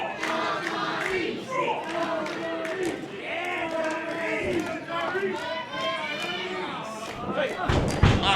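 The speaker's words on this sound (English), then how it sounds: "And now, the crowd getting behind our champion." A wrestling crowd at a Chaotic Wrestling event rallies behind its champion, a loud sustained roar of chanting voices with thuds from the ring and a heavy slam near the end.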